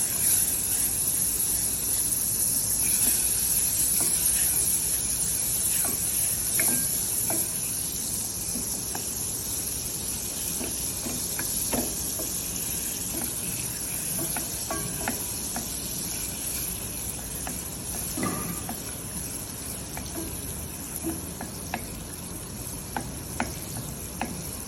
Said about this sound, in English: So we need a butter. Clarify the butter first.